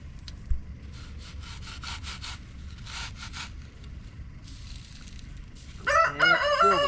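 A farm rooster named Cluck Norris crows loudly and close at the end, after several seconds of steady rasping, sawing-like rubbing with a low rumble beneath, with no talk.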